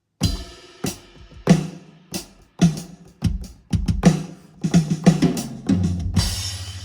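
A Mr. Big drum kit is played on an MPC sampler, a steady groove of close, punchy kick and snare hits with cymbals, ending in a sustained low tone and a wash of crash.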